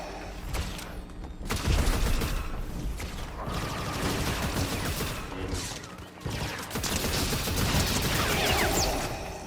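Rapid gunfire, bursts of shots and crashing impacts rolling on almost continuously, loud and dense, with a brief lull midway before the firing resumes.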